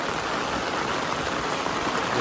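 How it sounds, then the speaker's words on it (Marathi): Heavy morning rain in Konkan hisses down in a loud, steady wash, close by and unbroken, with no voices over it. "तर जोरातच पाऊस येलो"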